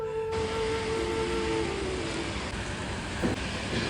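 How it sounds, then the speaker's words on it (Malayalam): Heavy rain falls outside in a steady, unbroken hiss that holds at an even level throughout, heard from indoors with a faint tonal hum underneath. "സുഹൃത്തുക്കളെ പുറത്ത് നല്ല മഴയുണ്ട്"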